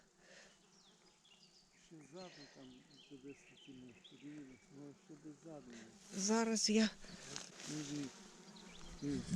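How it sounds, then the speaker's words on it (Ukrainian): Flies buzz around slimy mushrooms on a warm forest floor, drones rising and falling close by, louder near the end, while a person speaks briefly. "отут щось мухи знайшли. Мухи знайшли, а ми нічого не знаходимо"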